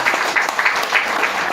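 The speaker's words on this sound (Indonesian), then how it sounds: "kita tepuk tangan dulu sama Tuhan Yesus." A church congregation claps together in praise, a dense, steady wash of hands filling the room without a break.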